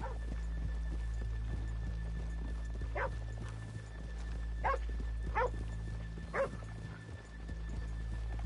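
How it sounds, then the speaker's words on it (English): Horses in a video game, snorting and whinnying in a few short bursts over a steady low ambient hum, with faint hoof clops and a dog-like bark. "Let's leave the horses here off the main drag."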